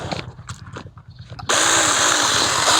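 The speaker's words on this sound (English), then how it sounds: "the next thing I'm going to do is damage this using my handheld chainsaw" A handheld chainsaw bites into tree-trunk bark: a few seconds of faint knocking and handling, then the saw abruptly roars up into a loud, steady, high-pitched cutting whine that holds to the end.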